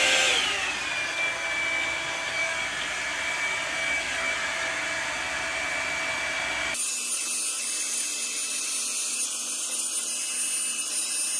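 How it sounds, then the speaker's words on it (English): A hair dryer on a low setting blows steadily up close, a constant airy whoosh that cuts off abruptly partway through, with no talk. "I blow dry it on the kind of low setting"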